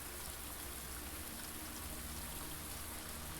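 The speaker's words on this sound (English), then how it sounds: "I did not realize it was raining until we got in here." Steady rain falls outside in the video game Blue Prince, a continuous, even hiss of drops that fills the whole stretch with no talk over it.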